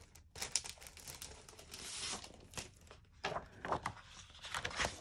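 Glitter and foil scrapbook paper crinkles and tears close up, with brisk rustling bursts and a longer ripping stretch, no talking.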